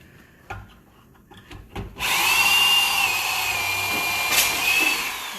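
A power drill whirs steadily into wood for several seconds, loud and close, after a few light knocks and handling sounds.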